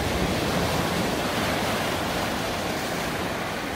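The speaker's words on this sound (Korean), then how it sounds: "파도 소리가 아주 정겹습니다." Sea waves break and wash steadily onto Bonggil Beach on Korea's East Sea coast near Gyeongju, a loud, continuous broadband roar of rough surf with no voices.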